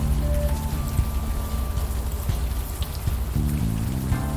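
Steady rain in the video game Unavowed, a dense continuous patter of drops close by with soft tonal game music layered underneath, no voices.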